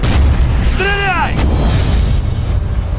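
Loud booming gunshots and bursts in a film trailer's battle scene, set against a driving score, with a shouted voice and a sweeping tonal whoosh in the middle.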